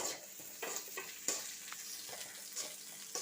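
Browned onions and green chillies sauté in hot oil for an Andhra-style dish, with a constant close sizzle and repeated spatula strokes against the pan.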